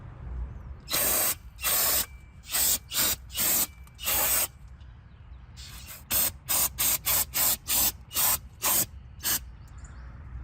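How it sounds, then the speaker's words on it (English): An aerosol can of brake cleaner sprays brake parts in repeated short hissing bursts, a few longer blasts first, then a quick rhythmic series of brief spurts, close and loud. "Now it's time to spray the brake cleaner."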